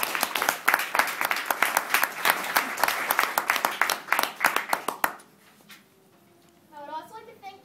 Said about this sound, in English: Can I ask for one round of applause for the City of London School for Boys for hosting us